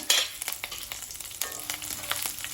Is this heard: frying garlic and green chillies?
yes